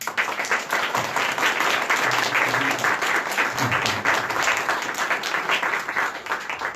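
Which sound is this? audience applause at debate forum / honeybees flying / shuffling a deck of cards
audience applause at debate forum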